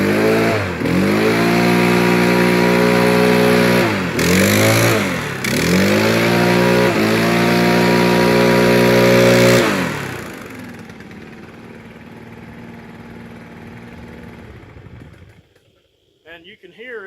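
A STIHL BR 800c Magnum backpack blower engine runs up loudly with a steady mid-pitched drone, rising and falling through several throttle blips before cutting to a lower idle and fading out.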